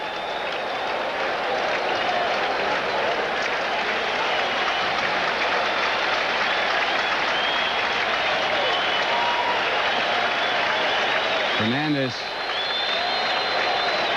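A Major League Baseball crowd at a Cubs–Mets game cheers and applauds in a continuous, loud roar throughout, with a play-by-play announcer speaking over it.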